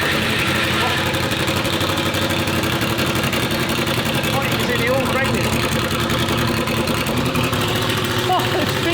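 A Honda VFR800 motorcycle engine fitted with a cheap Temu turbo runs steadily at close range, a dense continuous roar with mechanical chatter, while people talk over it.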